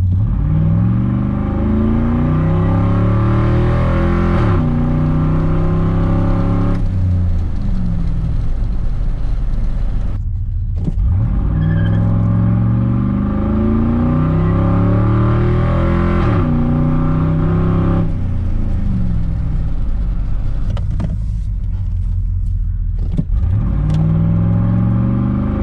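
A car accelerates hard in a rolling pull after a cold air intake install, the engine climbing steadily through rising revs with repeated gear-shift dips, loud and close throughout with no talking.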